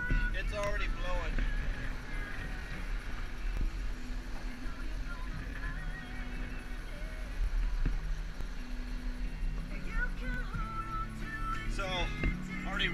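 Steady wind roars across the microphone aboard a small sailboat on a rough Texas bay during the Texas 200 sailing event, a continuous broadband rush with water and hull noise, while people talk over it.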